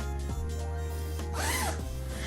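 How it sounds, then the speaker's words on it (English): Zipper on a pillowcase pulled along its track, a couple of short rasping runs up close over a steady low hum. "You can see that they have a zipper here."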